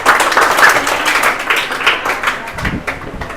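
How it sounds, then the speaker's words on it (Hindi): A classroom of students claps for two classmates being called up for a prize, a dense patter of applause that thins toward the end, with a few low thumps. "ताली बजाओ दोनों के लिए।"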